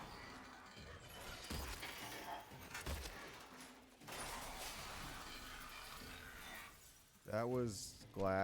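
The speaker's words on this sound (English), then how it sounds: "That was glass." Glass shattering in a video game: a burst of crashing, splintering noise amid busy in-game sounds and other sound effects, with a voice-like tonal sweep near the end.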